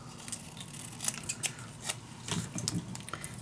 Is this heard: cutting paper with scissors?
yes